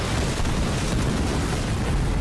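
An explosion in the video game Halo Wars 2 comes as a loud, sustained roaring rumble that fills the whole stretch without a break, with no voices.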